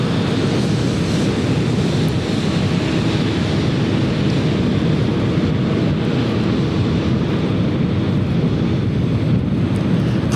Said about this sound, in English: Here's the CRJ.